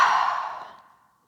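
A single breathy exhale, close and fairly soft, trailing off over about a second during an abdominal strengthening exercise.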